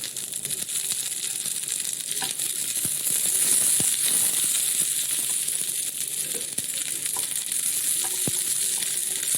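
Finely chopped onion and curry leaves fry steadily in a pan, a continuous bright sizzle with occasional small clicks and pops, close and unbroken throughout.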